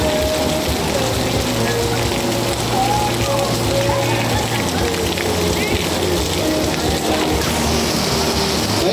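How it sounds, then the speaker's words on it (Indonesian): Heavy rain falls steadily on an outdoor cycling race track at Mandala Krida stadium in Yogyakarta, a dense, constant wash of drops with a faint low rumble underneath. "ini hujan lebat."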